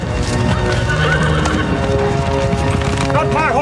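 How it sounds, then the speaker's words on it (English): A large Clydesdale horse whinnies several times over the steady clip-clop of its hooves, loud and close, with rising and falling neigh calls near the end. "an ultimate fan could ride and own Gandalf's giant horse via Trade Me"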